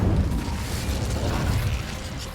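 In Hogwarts Legacy, the Incendio fire spell is cast as a short, loud burst of fiery whoosh with a low rumble beneath it, sounding close and alone without any voices.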